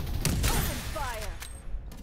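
Gunfire in the Bugfall shooter game: a few sharp, scattered shots and bursts over a busy background, with a faint voice in the mix.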